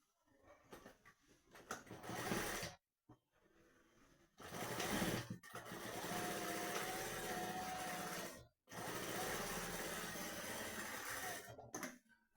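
A sewing machine stitches a double seam on patiala pants, running in steady, close bursts of several seconds with brief pauses between passes.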